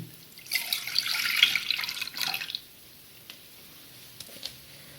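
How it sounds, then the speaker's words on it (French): Milk poured into a saucepan for crème anglaise: a steady, close liquid pouring splash for about two seconds, then it stops, leaving quiet with a few small faint knocks. "Vous allez y verser vos 500 ml de lait."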